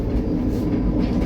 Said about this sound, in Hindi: तो ये रही अपनी इंडिया के ट्रेन का टॉयलेट